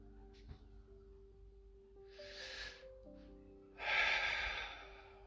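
A person takes slow, audible breaths close to the microphone, a softer inhale followed by a longer, louder breath, over a faint steady background hum.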